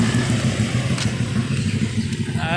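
A motorcycle engine runs close by outdoors, a steady low rumbling drone with slight throttle wavering, fairly loud and without speech over it.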